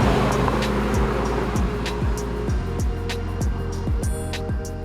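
Lamborghini Huracan STO sports car driving, its engine revving hard through repeated rising pulls with quick gear-change dips, loud and close, a fast rhythmic sequence of shifts.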